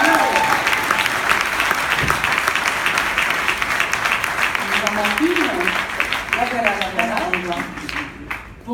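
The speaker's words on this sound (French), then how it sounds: "Les applaudissements." Sustained audience applause fills the room at a beauty workshop event, dense and steady throughout, with voices speaking faintly underneath and a brief fade near the end.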